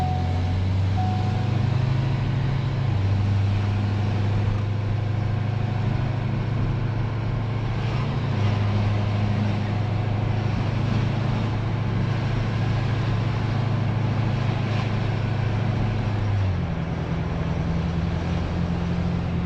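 Ford F250 truck on a test drive, steady loud engine drone heard from inside the cab, with low engine tones shifting as it changes speed, no talking.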